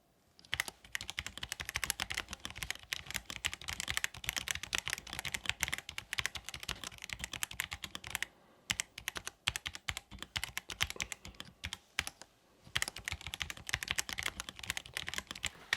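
Rapid, steady typing on a K686 PRO mechanical keyboard, dense clacking keystrokes with a couple of brief pauses, close and clear with no voices.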